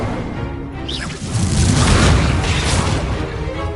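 Incendio fire spell effect in the Hogwarts Legacy video game: a loud, dense whooshing burst of flame-like roar that swells after a brief lull and keeps rumbling to the end.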